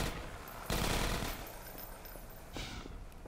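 Gunfire from Half-Life 2: Episode One, with a loud burst of rapid shots near the start and another volley near the end, set over a continuous game background and no speech.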